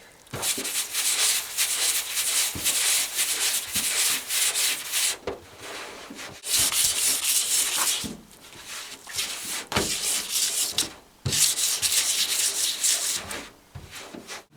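Repeated rubbing strokes of wet sanding on a car bonnet's peeling clear coat, loud and close, in rhythmic bursts with brief pauses between passes.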